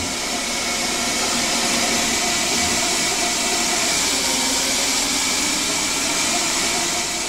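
A small CNC lathe cuts 2-5/16 inch threads at 1700 RPM, making a continuous even broadband whirring hiss with a steady motor hum, no voices.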